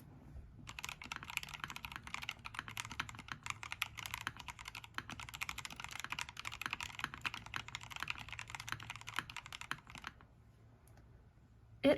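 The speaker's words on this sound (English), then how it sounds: "It's got a very nice deep sound profile." Mechanical keyboard fitted with TTC Honey Heart switches being typed on continuously for about ten seconds, a quiet, dense patter of rapid keystrokes heard up close, then stopping.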